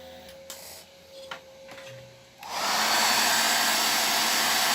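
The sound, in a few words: hair dryer drying a light coat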